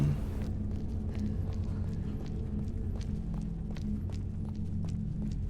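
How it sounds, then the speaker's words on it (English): Footsteps in Resident Evil Revelations 2 tread at a steady walking pace, soft repeated thuds and scuffs laid over a constant low droning hum throughout. "I just love the sound of the footsteps."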